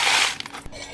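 Crushed eggshells clatter and clink as they drop into a glass jar, a brief rattling cascade with a few separate small knocks toward the end.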